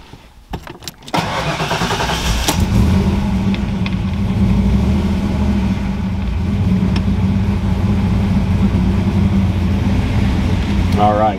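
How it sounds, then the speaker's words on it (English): A Ford Fox Body Mustang fitted with a Terminator X engine controller starts up: a short starter crank, then the engine catches with a loud burst and settles into a steady, rumbling idle close by. "So the first thing we're gonna do is go ahead and start the car."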